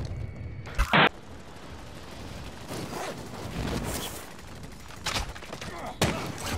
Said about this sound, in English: What sad excuse of a gunfight is up here?